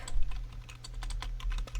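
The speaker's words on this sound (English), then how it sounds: "Pardon my bad typing." Quick, uneven clattering of typing on a computer keyboard, close and steady throughout with no talking.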